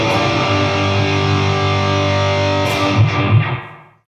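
Electric guitar played through a Headrush amp-modeler speaker with distortion and effects, sustained chords ringing loud and alone, then a couple of picked notes before the sound fades out.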